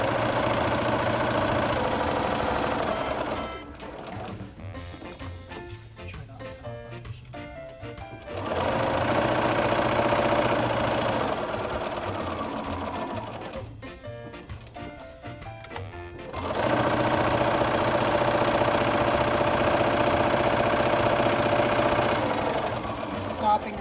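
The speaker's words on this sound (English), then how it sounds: "And then I'm gonna just sew up until that point, back stitch, and then that's it." Sewing machine stitching a quarter-inch seam on a fabric face mask, a steady loud mechanical whir running in long bursts with short pauses between seams, no talking.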